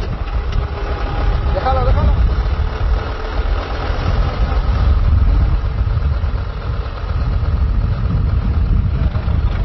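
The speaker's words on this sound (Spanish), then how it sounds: "¡Alex, vamos con el tractor!" A tractor engine runs steadily on a farm, a loud low rumble filling the whole stretch while people shout over it.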